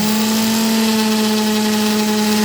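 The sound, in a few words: power sander on wood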